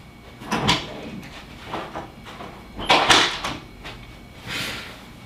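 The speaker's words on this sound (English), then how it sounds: "You finna go lock the door?" A door is shut and locked indoors, with a few separate knocks, thumps and latch clicks spread over several seconds at close range. No one speaks over them.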